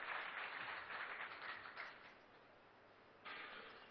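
A studio audience claps steadily to welcome a guest on stage, a faint and continuous patter of applause that dips briefly and then swells again near the end, with no voices over it.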